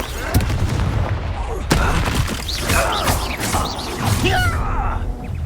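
In the Hogwarts Legacy video game, a Confringo blast spell goes off among battle effects: sharp booming impacts and crackling bursts mixed with shouted voices and clashing magical sounds, loud and close throughout.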